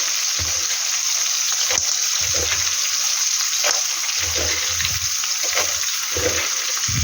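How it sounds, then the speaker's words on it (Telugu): Peanuts frying in hot oil in a pan for a chutney: a loud, continuous close-up sizzle with intermittent low stirring bumps, alone with no voices. "నూనె మీద పడితే ఇందులో పల్లీలు వేసుకుంటాం"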